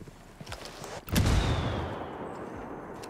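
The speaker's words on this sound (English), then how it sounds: "Rebel mortars taking out our targets" Rebel mortar fire in a PC video game on Extreme difficulty: a few faint distant thumps, then a loud, close booming impact about a second in that rolls off into a long rumbling decay.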